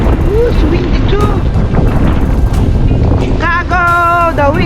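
Strong wind buffets the microphone outdoors during a Chicago snowstorm, a loud continuous rumble and roar under a voice, with some tonal sound near the end.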